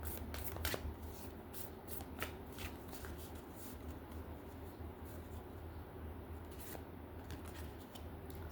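A tarot card deck is shuffled in a continuous soft riffle, with fluttering card edges and occasional sharper slaps, quiet and close with no talking.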